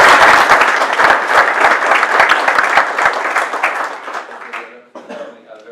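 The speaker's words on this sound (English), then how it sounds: "So a round of applause for them." An audience at a high school board of education meeting claps for the performing arts department, a dense burst of applause that thins out and fades. A few coughs and murmurs follow near the end.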